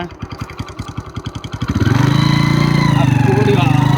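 A motorcycle engine cranks with a rapid chugging pulse for under two seconds, then catches and settles into a loud, steady close-up running drone, with a gear shift as it goes, heard up close and without voices.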